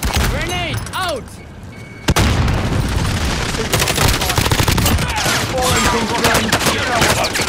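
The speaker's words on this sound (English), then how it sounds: "Throwing stun! Grenade, out!" Stun grenade thrown and detonating amid gunfire in Call of Duty: Modern Warfare, a sudden loud bang followed by dense rattling shots and battle noise, with voices shouting over the action.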